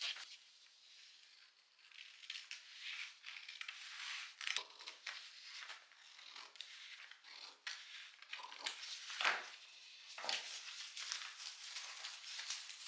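Scissors cut a fabric pattern piece for a sewn flower bouquet sleeve, giving soft, close, irregular snipping and crunching rustles over about thirteen seconds with no talking.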